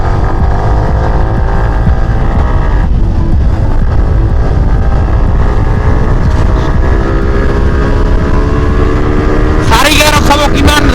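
A Yamaha R15 motorcycle exhaust roars loud and continuous, its engine note rising steadily through the gears against heavy wind buffeting, with a sharp burst of higher-pitched revving near the end.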